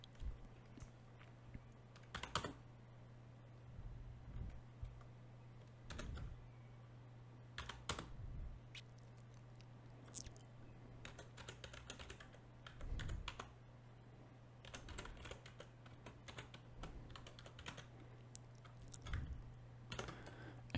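Someone types Python code on a computer keyboard in quiet, irregular bursts of close keystrokes, with pauses between them, over a faint steady hum.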